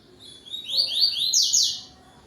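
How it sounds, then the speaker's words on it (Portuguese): A yellow-billed coleiro songbird sings a bright, high tui-tui phrase at dusk, a short run of quick rising chirps, fairly close and alone over a quiet background. "Ele dá um cante tuí-tuí bonito, de vez em quando ele dá uma campainha"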